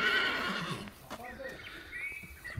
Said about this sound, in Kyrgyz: Ушул бие экен, туугандар.